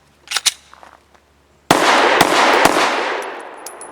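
A Full Conceal M3D folding pistol firing Federal 124 grain HST rounds: two sharp cracks at the start, then a loud burst of rapid shots with heavy echo and ringing metallic clinks as it decays.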